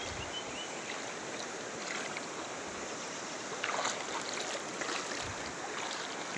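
River water rushing steadily during a crossing on a mountain trip, a broad, constant wash close by with no talking.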